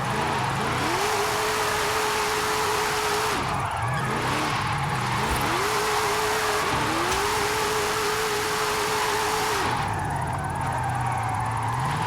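In a video game, the engine of a 1974 Holden Sandman HQ panel van with an all-wheel-drive drift tune revs steadily and loudly, rising and falling in long sweeps, while the tires hiss continuously underneath as the van drifts through corners.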